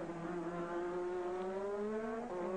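A Formula 1 race car at the 1985 Adelaide Grand Prix screams at high revs, a loud sustained engine whine with the pitch sliding slowly downward and then climbing again.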